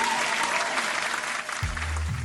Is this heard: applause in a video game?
yes